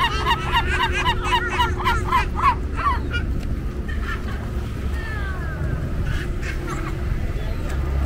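Large birds, goose-like, honk in a quick repeated series near the listener in Venice, then call more sparsely against a steady low outdoor rumble of city and water traffic, with faint voices now and then.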